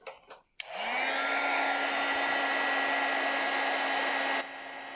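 A heat tool blasts hot air onto stamping foam in a loud, steady roar lasting several seconds, after a few short clicks, then drops to a quieter hum.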